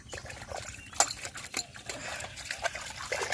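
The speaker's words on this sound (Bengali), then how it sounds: "খালি বাটিটা ধুয়ে দিচ্ছে" Water splashes and trickles as an empty bowl is rinsed in a village kitchen, with soft irregular sloshes and a few light knocks close by.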